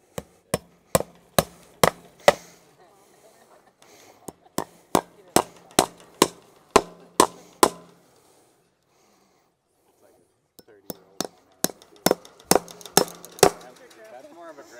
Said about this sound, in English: That's more of a grandma hammer right there. It's a real old one.